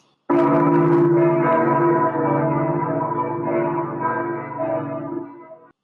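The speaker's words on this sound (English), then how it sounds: "that is a swell of bells" Church bells ring out in a rich, sustained swell, layered tones blending into a long resonant chord that starts abruptly, holds steady and slowly fades, loud and close with no talk over it.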